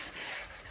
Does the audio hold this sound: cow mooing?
no